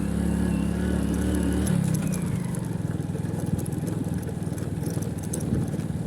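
A motorcycle engine drones steadily during an extreme offroad ride, a rough, continuous mid-pitched hum with a lower note that shifts after the first couple of seconds, plus wind and jolting noise throughout.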